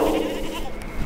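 A sheep in a Navajo Nation flock gives a single short, wavering bleat, fairly close and loud.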